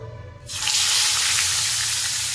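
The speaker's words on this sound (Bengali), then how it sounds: "এখন তেল বেশ ভালো করে গরম হয়ে গেছে এরপরে আমি মাছগুলো একে একে ছেড়ে দেবো" Koi fish dropped into well-heated cooking oil burst into a loud, broad sizzle that starts abruptly after a quiet moment and holds steady, with no talking.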